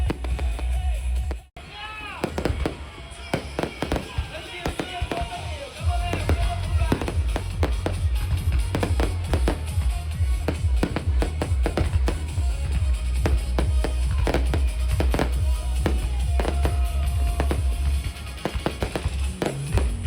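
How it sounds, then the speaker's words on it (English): Fireworks booming and crackling continuously, a loud dense barrage of bangs and pops with crowd noise underneath. "The fireworks only lasted for a few minutes"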